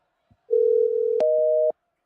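A telephone line gives a steady electronic tone on a call, holding for about a second, then switching with a click to a slightly different steady tone before cutting off, loud and alone.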